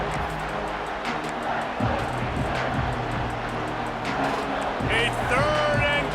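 Stadium crowd roaring at a college football game between Iowa and Indiana, a steady loud wash of voices and noise with a commentator talking over it.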